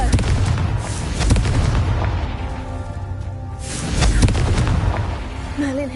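In Hogwarts Legacy, a Confringo spell explodes in heavy booming blasts, two big swells of rumbling impact a few seconds apart, loud and close.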